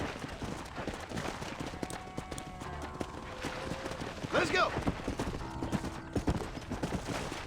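Horse hooves clop and gallop in the Red Dead Redemption western game, rhythmic thuds under a man's short spoken line, with a brief whinny-like cry and ranch ambience around them.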